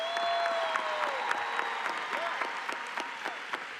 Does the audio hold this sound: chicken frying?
no